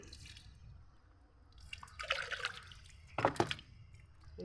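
Water scooped and splashing in two short bursts, close and fairly quiet, with drips in between.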